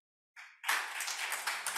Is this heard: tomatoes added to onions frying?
no